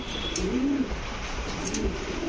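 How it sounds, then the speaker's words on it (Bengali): A fancy female pigeon coos softly at a pigeon farm, a short low warbling call close by over a busy background hum with faint chirps. "এটাও মাদি কবুতর"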